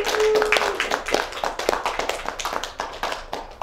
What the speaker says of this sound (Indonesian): Boleh beri tepuk tangannya dulu dahulu.